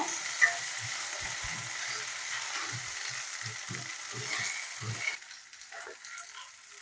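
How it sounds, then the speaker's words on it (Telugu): Okra, green chillies and tomatoes fry in a few spoons of oil with a constant close sizzle, broken by repeated low scraping stirs before the sizzle drops quieter near the end. "బెండకాయలు వేగాలి కాబట్టి వేపుకున్న తర్వాత పచ్చిమిరపకాయలు టమాటాలు వేసుకున్నాము"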